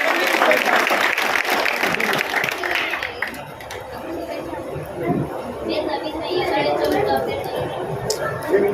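A crowd at a Bharatiya Janata Party campaign event in Dharamshala applauds loudly and steadily, with chatter and speech running over the clapping throughout.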